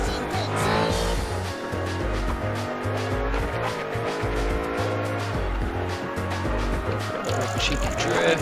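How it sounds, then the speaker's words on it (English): In Project Gotham Racing 3, a car drifts with long squealing tires over a loud, revving engine and pulsing game music, with a voice talking over the top. "Cheeky drift. Gutsy brake slide."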